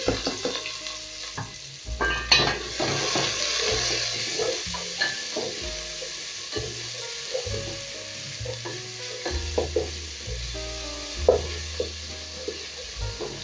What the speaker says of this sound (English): I'll go in with my onions.